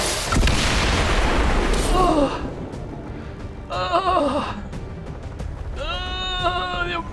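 An explosion in the video game XCOM 2 opens with a loud, dense blast that rumbles for about two seconds. Wavering, bleat-like tonal game effects follow.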